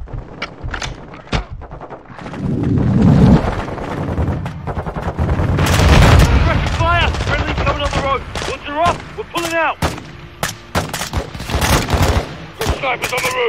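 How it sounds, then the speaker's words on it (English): Grenade launcher and gunfire in the Modern Warfare 2 campaign, a run of sharp loud blasts and rapid shots with heavy thumps, chopping up a busy battle din while voices call out between the bursts. "Grenade launcher!"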